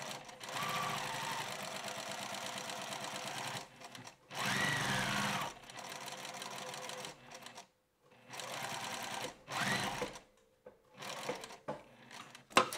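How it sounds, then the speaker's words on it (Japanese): A sewing machine stitches around a fabric pocket 5 mm from the edge in several loud, close bursts of rapid mechanical whirring, broken by short pauses. "ポケット周りに串を寄せるためにポケット周りを布端から5ミリのところで縫います"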